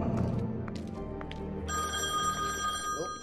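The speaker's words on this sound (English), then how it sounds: "Oh, phone call." A telephone rings in The Wolf Among Us video game, a bright electronic bell tone sounding continuously and loud over background game sound, without talk.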